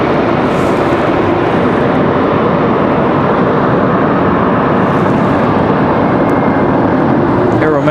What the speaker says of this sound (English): E175 moving quite quickly.